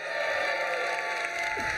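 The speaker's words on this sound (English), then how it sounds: "let's just lose our minds cheering them on for no reason" An audience at the SupportWorld Live 2024 conference claps and cheers, a dense, steady roar of applause and shouts filling the room without pause.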